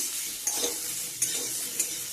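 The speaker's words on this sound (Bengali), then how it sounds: "তার জন্য ফুলকপিটা ভাজছি" Cauliflower fries in a pan with a steady, fairly quiet sizzle, broken by three short scraping stirs of a utensil against the pan.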